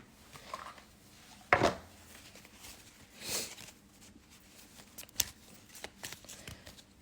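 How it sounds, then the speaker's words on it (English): Tarot cards being shuffled in a few quick riffling bursts, fairly close and moderately loud against quiet surroundings, with a couple of lighter taps and flutters in between. "Let's pull a card."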